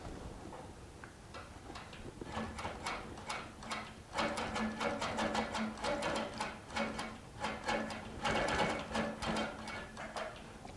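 A Baby Lock Regent sewing machine stitches slowly during ruler work on a quilt, a soft, close series of distinct mechanical ticks at an uneven pace over a faint motor hum.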